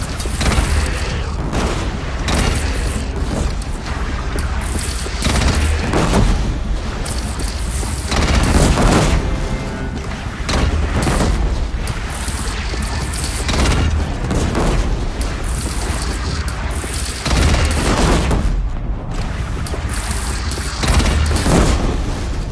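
Cannon fire and booming blasts from a bandit clan's single cannon during a battle in the video game Horizon Zero Dawn Remastered, a dense, sustained barrage of loud repeated explosions with no speech.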